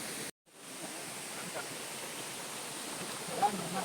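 Meenmutty waterfall in Wayanad, a faint, even wash of falling water heard from a distance, a soft continuous hiss broken only by a brief dropout near the start.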